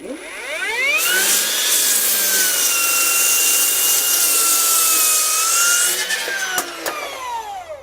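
A large cordless circular saw rip-cuts a structural wood beam: the motor spins up, holds a loud, steady whining cut for about five seconds, then winds down with a few clunks at the end.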